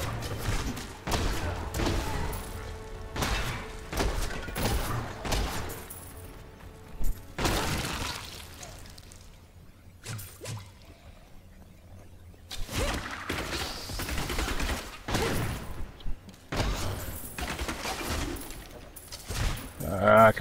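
Demon Hunter skill explosions in Diablo 3: repeated sharp blasts, thuds and shattering bursts in irregular clusters, loud and close, with a quieter lull midway and some talking over the action.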